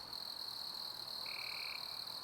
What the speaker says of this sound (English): with a chorus of cicadas and frogs forming the backdrop